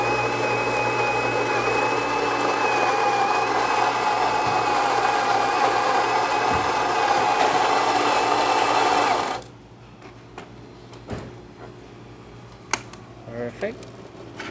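A Saeco espresso machine grinds and brews a shot, a loud steady electric whir and hum that cuts off abruptly about two thirds through, followed by quieter clicks and small knocks.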